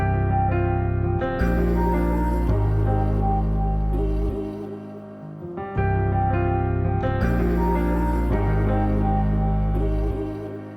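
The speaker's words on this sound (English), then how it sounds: "So I added this vocal chop right here from Arcade." A chopped vocal sample from Arcade plays a short melodic phrase that repeats twice, its pitched syllables sliding and stuttering over a sustained musical backdrop.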